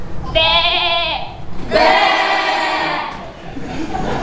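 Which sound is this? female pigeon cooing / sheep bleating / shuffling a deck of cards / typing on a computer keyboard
sheep bleating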